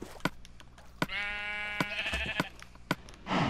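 Minecraft sheep bleating, a few drawn-out wavering baas close by, interrupted by sharp clicks of in-game hits.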